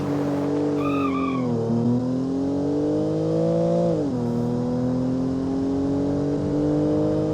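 A 2-liter inline-three car engine in the BeamNG driving game holds a steady, sustained drone, rising into a higher rev about four seconds in before settling back, with a brief squealing chirp early on and no talk.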